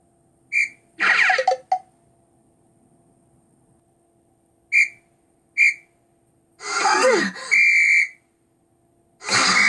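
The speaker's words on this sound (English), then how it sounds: "I blow the whistle." Several short, shrill whistle blasts in separate bursts, some longer and trilling, with quiet pauses between them and a low steady hum underneath.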